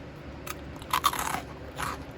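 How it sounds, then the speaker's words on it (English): Crispy homemade croutons crunch sharply when bitten, with a few close, brittle cracks followed by softer chewing crunches in a quiet room. "I'm gonna take a bite and show you how crispy they are."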